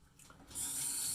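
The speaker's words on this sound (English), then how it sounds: "Sorry about the water." Tap water switches on partway through and runs steadily, a bright hissing gush that starts after a quieter moment and stays loud to the end, close by, no speech.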